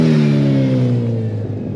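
A 2022 Hayabusa motorcycle fitted with an M4 exhaust revs loud and close, a deep steady engine tone that slowly drops in pitch as the revs fall away.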